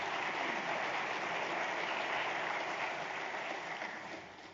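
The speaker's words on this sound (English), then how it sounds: "let's have a round of applause for Alison George for that great presentation" Audience applause after a presentation at an economic forum, a dense steady clatter of many hands that holds evenly for several seconds and then begins to fade.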